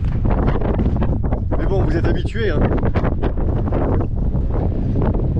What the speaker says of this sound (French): Il y a du vent encore.